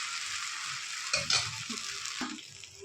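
Dosa batter fries on a hot pan with a steady, bright sizzle that carries throughout, with a few soft scraping or spreading touches partway through, close and alone without speech.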